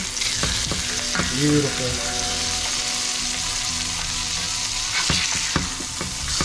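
Freshly caught fish fillets sizzle steadily in hot oil in a roadside pan, with clattering spatula scrapes and flips, a brief spoken word over the loud continuous frying hiss.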